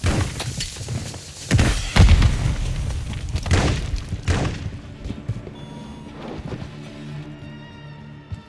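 A grenade explodes in the video game Call of Duty 3 with a deep, heavy boom followed by a few thudding rumbles that fade into quieter ambience.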